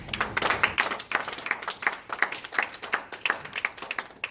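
A church congregation clapping together in steady, rhythmic unison, loud and close, with a few scattered voices faintly underneath.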